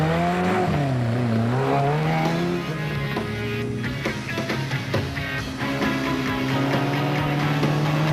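Rally vehicles, including Class 5 Toyota Hilux entries, launch one after another at the start of the 80-kilometre Settler sprint in the 1990 Settler 500, with loud engines revving and rising in pitch, close and continuous.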